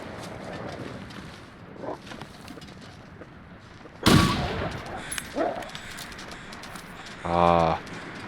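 A rifle fires in The Long Dark survival game, a sharp, loud single report about midway, followed by a smaller crack and a brief rattling burst near the end over a low, steady ambient bed.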